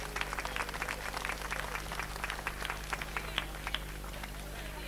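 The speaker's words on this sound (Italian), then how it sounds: "Accogliamo con un bel applauso il Rione delle Campane." Crowd applause greets the Rione delle Campane arriving at the donkey palio in San Venanzo, a steady outdoor clapping with scattered sharper claps and murmuring voices underneath for the whole stretch.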